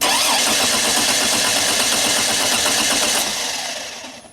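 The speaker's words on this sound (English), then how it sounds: "Manual bypass test on the starter." Chevrolet Trailblazer 4.2 engine cranking steadily when the starter is energised through a manual bypass jumper. It gives a loud, rhythmic whirring churn for over three seconds, then winds down without catching.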